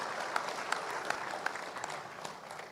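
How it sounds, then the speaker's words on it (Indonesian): Audience at an Indonesian speech gives applause, a soft, dense wash of clapping with a few sharper individual claps standing out, fairly distant and steady throughout. "berikan tepuk tangan pada dia"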